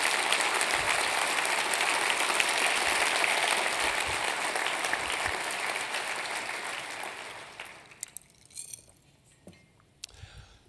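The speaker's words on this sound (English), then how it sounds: "Give our city council another great round of applause." Loud sustained audience applause for a city council at a Boise State of the City address, filling the hall for about seven seconds before tapering off into scattered last claps and quiet.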